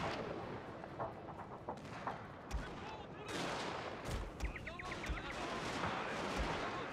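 Musket and artillery fire crackles through a Total War: Shogun 2: Fall of the Samurai siege battle, with scattered volleys and sharp reports at first that swell into dense, overlapping gunfire and booms.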